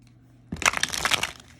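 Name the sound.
shuffling a deck of tarot cards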